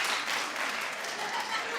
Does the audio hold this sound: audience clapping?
yes